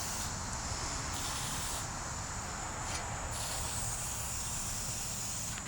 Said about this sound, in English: We're just going to spray the snot out of this stuff.